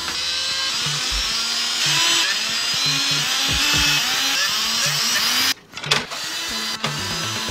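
Screws are fastened into a PC case while a computer is being assembled, giving a steady, close whirring drive that runs for several seconds. The whirring is broken by short clicks and knocks, then a brief pause near the end.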